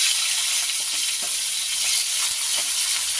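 Nigella seeds and torn green chilies hit oil left from frying fish, setting off a loud, continuous hissing sizzle that fills the pan, with faint small pops and stirring beneath it.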